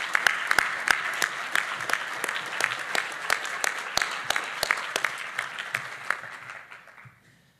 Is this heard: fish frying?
no